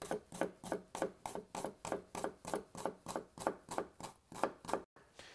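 A knife chops through an onion on a board in a quick, steady rhythm of about a dozen crisp strokes, close and fairly quiet, then stops abruptly.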